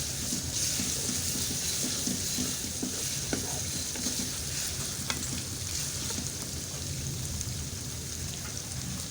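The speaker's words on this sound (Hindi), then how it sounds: "अब इस पर डालेंगे लहसुन अदरक का पेस्ट। बिस्मिल्लाहिर्रहमानिर्रहीम। इसके साथ इसे 5 मिनट करेंगे भुनाई।" Golden onion with garlic-ginger paste frying in a pan for a toori handi, a loud continuous sizzle with constant scraping stirs and occasional clicks of the spoon, no one talking.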